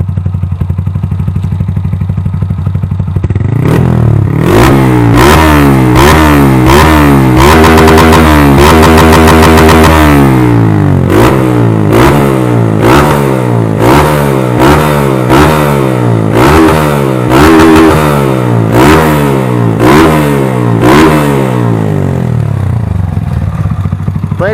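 A Honda Titan 160 motorcycle with a tuned head, camshaft and aftermarket exhaust idles roughly, then is revved hard in repeated loud blips, rising and falling in quick succession close by.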